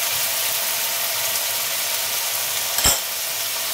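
Garlic paste added to a hot pan of oil with onion paste, a loud steady broadband sizzle close by, with one brief sharp clack from a utensil near the end.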